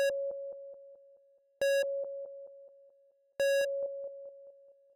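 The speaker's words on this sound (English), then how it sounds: "the first initial sine wave is distorted. However, the delays via the send are not distorted." Distorted sine-wave synth patch in VPS Avenger 2 with undistorted delay sends: three loud, buzzy tone bursts at steady intervals, each trailed by a string of cleaner, fading pure-tone echoes.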